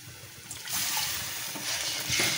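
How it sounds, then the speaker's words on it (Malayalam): Water poured into a pan of chilli curry base for a fishless fish curry, a soft splashing pour that swells after a quiet start and runs steadily for a couple of seconds, close by and alone. "കുറച്ച് വെള്ളം ഒഴിക്കാവുള്ളൂ."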